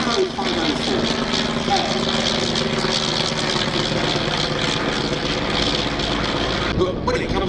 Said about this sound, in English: our first rotary engine action today from the Avro